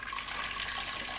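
Water pours in a steady hissing stream into a pot for making the syrup for Greek melomakarona honey cookies, a brief continuous splash with no talk.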